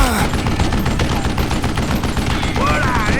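Rapid gunfire rattles loudly and nearly continuously in a Western-style video game, dense repeated shots over background sound.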